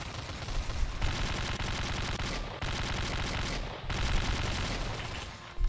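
Sustained bursts of weapon gunfire in the dark Slendytubbies 3 game, a dense, loud rattle running steadily with brief gaps between volleys.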